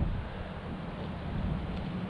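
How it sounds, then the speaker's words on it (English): Steady, low rumbling wind of about 20 miles an hour with stronger gusts buffets a microphone on a bike ride, without a break, a constant roar with no other sounds. "the wind's pretty strong."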